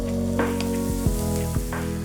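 Onions, salt and curry leaves gently cooking down in a pan for a tamarind salmon curry: a soft, steady sizzle over a prominent low droning hum, with a few faint clicks.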